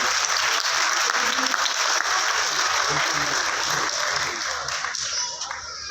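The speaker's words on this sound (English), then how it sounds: "So big round of applause for this person." Sustained audience applause at a university prize-giving ceremony, steady and full from many hands, holding for several seconds before tapering slightly at the end.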